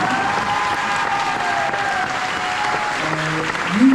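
Dense applause from a crowd at a theme park press event fills the whole moment, a steady wash of clapping with a faint tone humming underneath.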